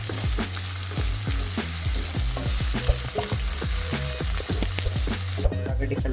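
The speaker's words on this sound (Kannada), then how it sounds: "ಉಳ್ಳಾಗಡ್ಡಿ ಹಾಕೊಂಡು ಎಲ್ಲ ಮಿಕ್ಸ್ ಮಾಡ್ಕೊತೀನಿ" Chopped onions sizzle loudly in hot oil in a pan while being stirred, with a constant close frying hiss and frequent scraping clinks of the spoon against the pan, and no voices.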